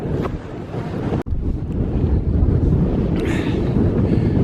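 Strong gusty wind roars and buffets the microphone continuously on a misty mountain summit in the Brecon Beacons, Wales, with a brief drop-out partway through.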